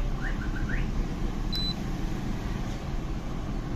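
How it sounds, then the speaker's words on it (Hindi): An air conditioner indoor unit, model FITH STR465 with a CA888 board, gives a single short electronic beep at power-on. The beep sits over a steady low hum and background noise. "ये इसने अब बजर भी दी है"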